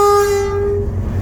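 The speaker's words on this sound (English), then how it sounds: "Blow the whistle." A loud, steady steam whistle blares close by on a heritage railway train, its bright tone holding for over a second before easing off over a low rumbling engine.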